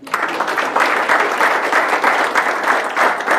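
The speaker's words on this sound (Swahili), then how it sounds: "Ako wapi Omondi huyo asimame tumpigie makofi" Loud, steady applause from a gathered audience honouring the man of the match, dense clapping that stays close and continuous from start to finish with no talking over it.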